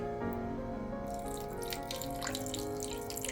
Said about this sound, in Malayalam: ഇനി നമുക്കിതിലേക്ക് കുറച്ചുകൂടി വെള്ളം ചേർത്ത് കൊടുക്കാം.